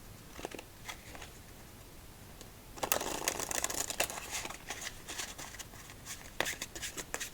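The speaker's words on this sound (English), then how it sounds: "Let's go 3 more shuffles." A deck of playing cards is riffled and bridged up close during quiet solitaire play: soft taps and handling, then a dense crackling burst of shuffling, followed by further fluttering riffles and light card snaps.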